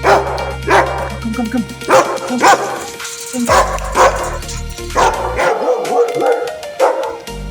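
Several dogs at an animal shelter in Reno, Nevada bark loudly and repeatedly nearby, overlapping yips and woofs in irregular bursts.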